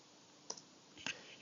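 Two faint, crisp computer mouse clicks sound a moment apart against quiet room tone, each one short and close.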